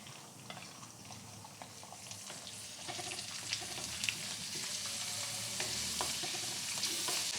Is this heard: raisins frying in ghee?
yes